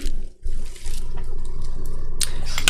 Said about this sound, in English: Taking a little bit of water there to hydrate.